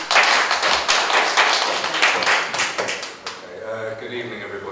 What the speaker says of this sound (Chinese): 那所以我就把那个麦克风交给我们的第一位讲者雷少老律师，我们掌声欢迎他。